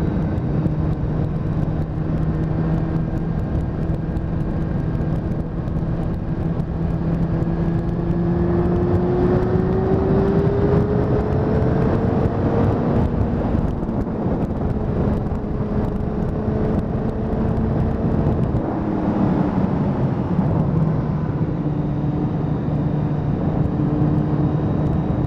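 A Honda Fireblade motorcycle cruises along a country road at moderate, legal speed, its engine a steady close drone with gentle rises and falls in pitch, wind rushing over it, no talk.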